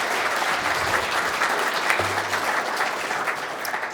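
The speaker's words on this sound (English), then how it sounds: "let's have a round of applause for everyone here" Audience at a morning breakfast gathering giving a round of applause: steady, moderately loud clapping from a modest crowd for several seconds, with a short low hum partway through.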